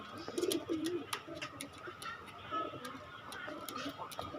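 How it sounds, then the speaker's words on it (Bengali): Pakistani John Cena pigeons coo softly and faintly in a pen, with low repeated cooing over light ticking and rustling, while a person talks quietly nearby. "জনসিনা কবুতর।"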